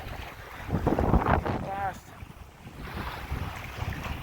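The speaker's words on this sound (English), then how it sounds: "The sail needs some more wind in it." Wind buffets a classic sailing boat at the Mahurangi festival as it makes slow way, a rough, gusty rush of microphone wind noise with water wash, swelling mid-clip and easing, with a brief voice heard within.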